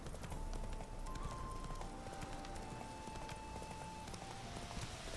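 Rhythmic hoofbeats of Roach, the horse in The Witcher 3, clip-clopping steadily at a run, with game ambience and faint tonal music underneath.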